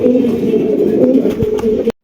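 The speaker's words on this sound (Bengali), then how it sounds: "ডেনিশ কবুতর ব্ল্যাক ডেনিশ একদম কালো কুচকুচে" A black Danish pigeon coos close by in a low, throaty, continuous rolling call that cuts off abruptly at the end.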